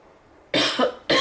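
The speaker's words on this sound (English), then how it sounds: "I can't stop coughing now." Two loud, close coughs from a woman, a harsh burst followed half a second later by another, with no talk around them.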